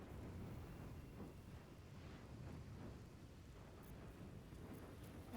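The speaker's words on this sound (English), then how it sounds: "Ice storm." Ice Storm spell cast in a Baldur's Gate 3 battle, a dense, steady roar of crackling, rumbling noise like heavy hail and thunder that fills the whole stretch with no letup.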